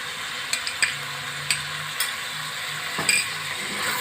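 Spices with a spoonful of ginger-garlic paste and Kashmiri chili fry in a pan for mutton boti masala, giving a steady close sizzle broken by a few clinks and scrapes of a stirring spoon, with no talk.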